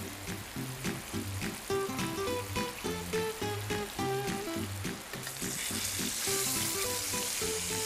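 Fish fries in hot oil, a soft continuous sizzle partly masked by louder rhythmic background music.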